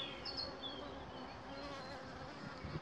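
Honeybee drones and workers buzzing at a Dadant hive during an inspection, a dense continuous hum with wavering pitch, close and steady, with no voices.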